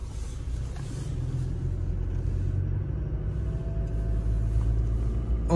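A van climbs a steep road toward Heimbergfluh near Bern, its engine a steady low rumble that swells slightly as it labours uphill, heard from inside with no talking.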